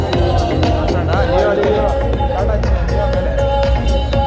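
Dense stadium crowd at a Bangalore IPL cricket match, Bengaluru versus Gujarat, a steady loud roar of many voices with sharp claps and shouts cutting through and a nearby voice talking over it.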